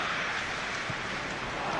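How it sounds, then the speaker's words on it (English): Rain falls at a football match, heard as a steady, broad hiss of drops across the stadium, continuous and fairly faint with no clear talk over it. "Rain starting to fall here, it has been looking that way for a little while."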